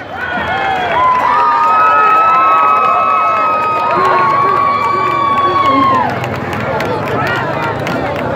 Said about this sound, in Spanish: Así que fuerte el aplauso.